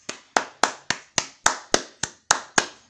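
About ten sharp hand claps in a steady, slightly uneven rhythm, close and crisp, with no voices.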